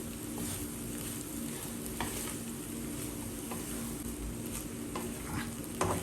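Beetroot egg rice being mixed in a pan, a soft continuous sizzle with light scraping of the spoon on the pan and occasional taps, close and steady, no talk.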